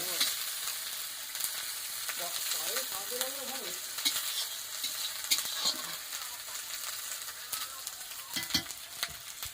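Onion frying in a pan, with a steady close sizzle and occasional scraping strokes as it is stirred, running throughout without talk.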